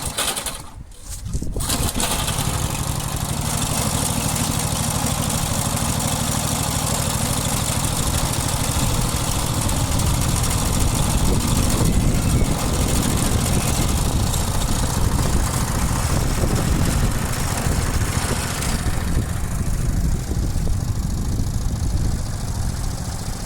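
A flea-market push lawn mower's small engine runs at full throttle, a steady loud drone with a rattling machine, close and alone throughout after a brief start.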